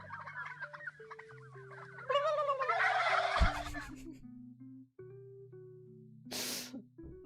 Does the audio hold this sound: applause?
no